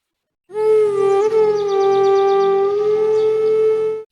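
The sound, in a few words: ambulance siren arriving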